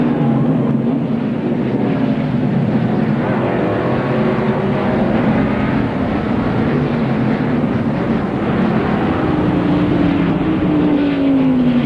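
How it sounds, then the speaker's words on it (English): Pack of stock race cars taking the green flag at a road course's 11th corner during the 1991 Banquet Frozen Foods 300, a loud, continuous massed engine roar with rising tones, steady throughout and alone. "The cars come off of the 11th corner and they get the green flag."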